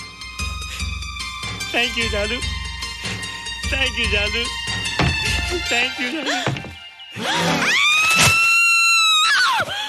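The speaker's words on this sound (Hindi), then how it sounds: "माँ चिल्लाओ मत, माँ कोई आ जाएगा" A woman screams in a Hindi film scene, following a stretch of music and voices, her sustained high cries rising loud and close near the end.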